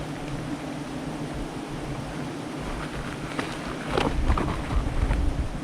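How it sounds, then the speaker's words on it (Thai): Strong wind blowing at sea, a constant roaring rush of broadband noise buffeting the microphone, growing louder and gustier near the end, with no voices. "ลมแรง"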